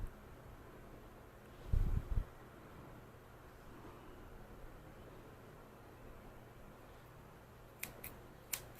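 Faint, delicate snips of scissors trimming the hair around a Havanese dog's eyes during grooming, a couple of quick close clicks near the end over a steady background hiss.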